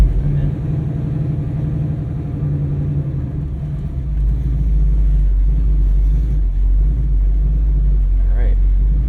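A 1968 Ford Mustang Fastback's engine drones low and steady from inside the cabin while driving, swelling louder about halfway through as the car pulls harder.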